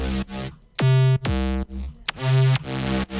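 Three gritty synth bass presets layered and played together: loud, buzzy sustained bass notes with sharp pitch swoops between them, heard alone with no voice.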